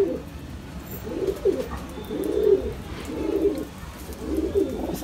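Pigeons (Madrasi breed pairs) cooing nearby in a steady rhythm, low throaty coos repeating about once a second.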